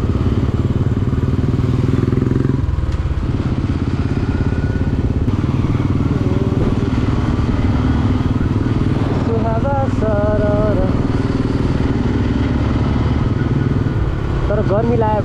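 A motorcycle rides along a road on an early Saturday morning, its engine a loud, steady close drone throughout, with people talking over it.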